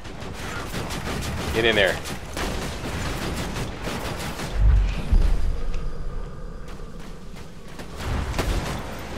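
Grenades burst among the gunfire of a Borderlands 2 firefight, with heavy low thuds standing out midway through dense crackling shots, and a voice briefly speaks over the din.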